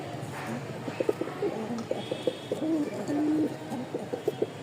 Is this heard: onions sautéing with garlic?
no